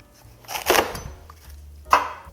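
Vegetables cut into large chunks with a knife on a cutting board, two distinct chops close up, the second sharper, with no talking.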